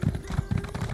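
Horse hooves clip-clop at a steady gallop in The Elder Scrolls Online, a loud, close, rapid rhythmic pounding with no voices.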